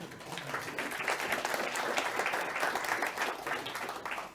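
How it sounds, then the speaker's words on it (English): A meeting audience claps as a volunteer comes up to join the presenter on stage, a moderately quiet but sustained round of many hands, swelling slightly in the middle and holding steady to the end. "Give him a big round of applause."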